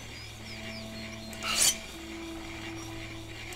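A sword is sharpened on a whetstone in Gothic 3, heard as one short, bright scraping rasp in the middle of a quiet stretch with steady background hum.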